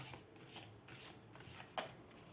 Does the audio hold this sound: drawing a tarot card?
yes